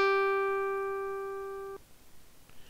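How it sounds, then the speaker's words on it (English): Synthesized plucked guitar note played with SoX play in a Linux shell: a single clean harmonic tone that decays slowly for under two seconds, then cuts off abruptly, followed by faint room noise. "So you get a nice little synthesized guitar plucking sound there."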